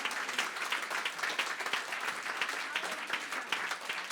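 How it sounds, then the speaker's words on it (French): A church congregation at an online worship service claps steadily and energetically, a dense continuous patter of applause with scattered voices, at moderate volume. "Acclamons très fort le Seigneur Jésus"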